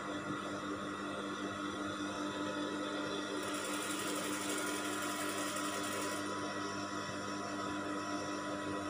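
A sewing machine runs steadily through a seam on a kemben garment, a continuous close mechanical whir with a brief brighter stretch midway, no voices.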